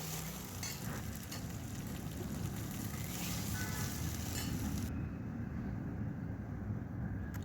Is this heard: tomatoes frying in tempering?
yes